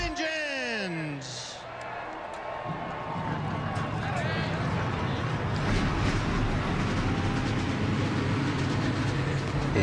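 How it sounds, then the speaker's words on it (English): NASCAR Truck Series trucks firing up their engines together at Daytona, a loud continuous roar with rising whines over crowd noise, steady and dense throughout. "And you heard the roar of the engines right there yourselves"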